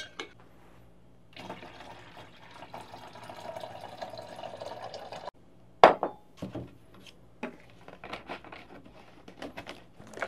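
Water being mixed with potassium bicarbonate in a jug: a steady pour or swirl of liquid for several seconds, then a sharp knock and a run of close, irregular sloshing and clinking sounds.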